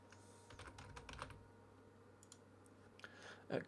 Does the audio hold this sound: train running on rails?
no